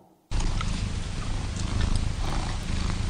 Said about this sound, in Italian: le fusa in un contesto di coccole